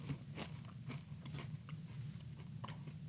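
Close, steady crunching of dry breakfast cereal being chewed, with repeated bites and grinding at a regular rhythm under a low background hum, no talk.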